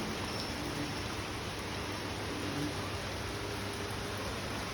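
Heavy rain pours down steadily and close by, a dense, even hiss with no break and no voices.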